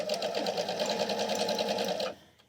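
An Eversewn Sparrow QE sewing machine runs a decorative preset stitch, a steady fast rhythmic whirring and clatter that holds evenly for about two seconds and then stops abruptly, with no voices.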